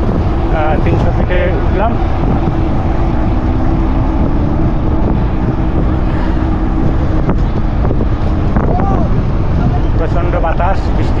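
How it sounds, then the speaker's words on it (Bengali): Strong wind buffets the microphone in a continuous loud roar during a group bicycle ride at Shapla Beel in Rupganj, with someone talking over it. "প্রচণ্ড বাতাস, বৃষ্টি হবে"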